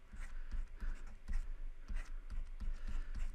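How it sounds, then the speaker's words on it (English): Y values from a maths review problem are written down on a board or paper in a run of quick, rhythmic scratching strokes. Each stroke is short and close, with brief pauses between them and no speech. "So I'm just going to write those y values down."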